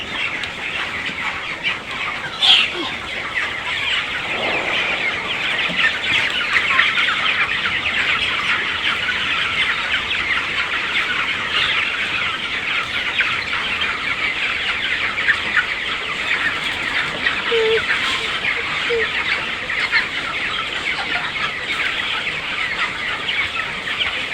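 Chickens clucking steadily in a poultry farm shed during hot weather, a dense, continuous flock murmur with occasional louder calls and no talking.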